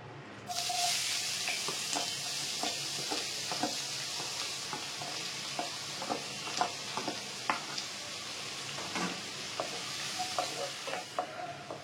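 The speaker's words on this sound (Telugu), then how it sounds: "దీంట్లో మనం ఉల్లిపాయలు పచ్చిమిర్చి వేసి వేయించుకుందాము." Onions and green chillies fry in a pan for an eggs curry, giving a continuous soft sizzle with repeated scraping and stirring clicks of a spoon throughout.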